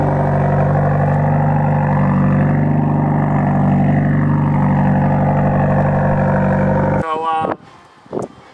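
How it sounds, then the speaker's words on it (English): A Subaru WRX fitted with a Turbo XS downpipe gives a loud, steady, rumbling exhaust drone for about seven seconds, then cuts off abruptly, followed by brief quieter sounds. "Love the way my exhaust sounds"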